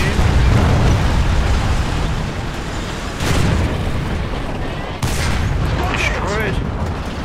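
Loud, continuous gunfire and explosion rumble from a War Thunder tank battle, with bursts and booms layered throughout as an enemy vehicle is destroyed, and a sharp new blast partway through.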